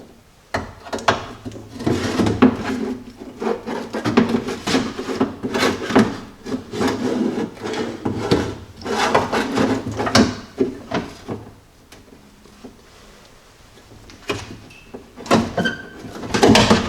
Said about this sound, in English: we're going to take our regulator and feed it into the door